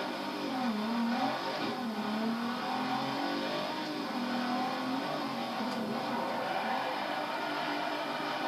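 A four-wheel-drive car drifting around Maple Valley Raceway in Forza 4 holds a loud, continuous engine drone with wavering revs and tire noise, and no voice.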